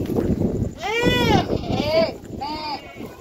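Goats on a farm bleating nearby, two or three wavering cries in quick succession over a background of low voices and ambient noise.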